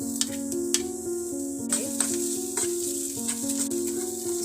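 Finely chopped onion with crushed garlic and ginger frying in a pan for a Punjabi-style mustard and chickpea greens dish, a steady close sizzle broken by a few sharp clinks and stirring scrapes.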